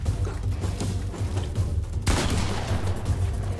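Rapid bursts of gunfire and booming impacts from the video game Fortnite, dense and continuous over a low rumbling game soundtrack, with no talking.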